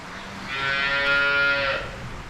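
A fresh cow moos once after calving on a farm, a loud, sustained, close call lasting over a second with no talking.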